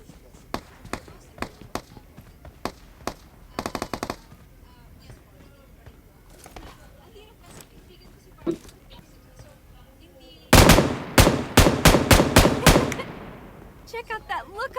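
Gunfire in PUBG Mobile on the Sanhok map: scattered single shots and short bursts early on, then a loud rapid volley of close shots near the end, with quieter shots trailing after.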